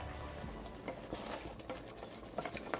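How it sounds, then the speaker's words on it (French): Faint, close stirring sloshes and scrapes come from a pot of leaf sauce with dried shrimp and two kinds of fish mixed in water, low and uneven, with no talking. "je vais bien mélanger avec l'eau"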